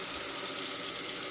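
Warm water runs from a tap into a container for mixing carpet shampoo, a steady close gushing hiss with no voices.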